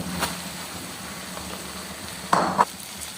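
Boiled masoor lentils go into a sizzling tadka, with a faint steady fry under two quick, louder splashing bursts near the end.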